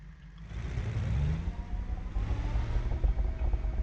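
A car engine cruises with its exhaust on in the BeamNG.Drive video game, giving a steady, throaty low rumble that rises and falls slightly, with no talk.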